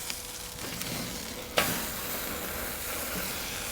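Grand Western Wagyu tomahawk steak searing over hot coals on an SNS kettle grill, a steady close sizzle and hiss with a brief sharp crackle midway.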